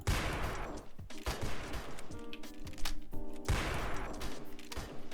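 Rapid bursts of video game shotgun fire crack out in quick succession, loud and close, with a short lull mid-clip before the blasts resume.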